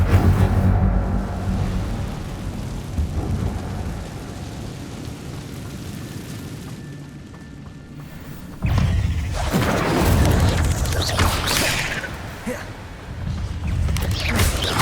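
Incendio fire spell cast in the video game Hogwarts Legacy, a sudden loud whooshing burst of flame partway through that roars and crackles for several seconds over a rumbling, stormy game ambience.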